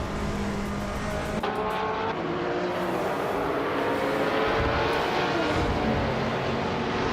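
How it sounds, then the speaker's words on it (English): A Lamborghini Gallardo GT3 race car engine in a racing game roars steadily at high revs. The drone is loud and continuous, with a faint whoosh of other cars around it. "The Lamborghini Gallardo GT3 driven by Maya is holding a solid 3rd place and has the fastest lap time in the race."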